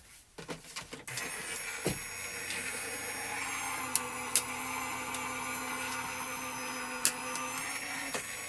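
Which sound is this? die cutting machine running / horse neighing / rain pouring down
die cutting machine running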